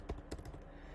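Typing on a computer keyboard during text template editing in Magick: a short burst of a few close key clicks near the start, then quieter low background hum.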